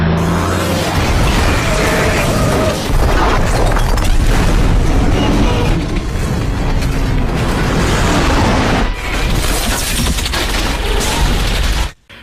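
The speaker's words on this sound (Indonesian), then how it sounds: "Truk yang dikendarai oleh John ditembaki dengan menggunakan rudal sehingga sebagian truknya rusak" Missiles slam into a truck on a road in a Die Hard action scene, a dense, loud barrage of booming blasts and crackling debris running almost without pause, ending abruptly.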